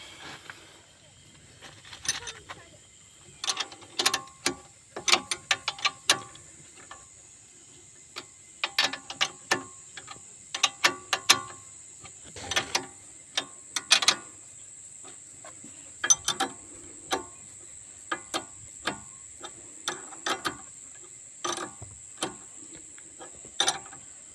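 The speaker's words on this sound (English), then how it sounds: "Tighten them up with the spanner." A spanner tightens nuts on a Kia torsion bar link, sharp ratcheting clicks coming in irregular quick bursts with pauses between them, close and crisp over a faint steady hiss.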